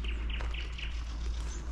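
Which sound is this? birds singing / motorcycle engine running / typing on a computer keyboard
birds singing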